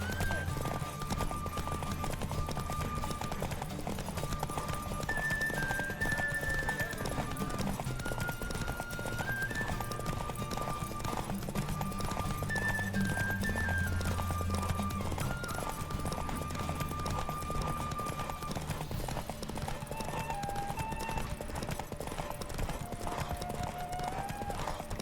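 Roach the horse galloping in The Witcher 3, continuous fast hoofbeats clattering under a melodic game music score, with occasional whinnying and no voices.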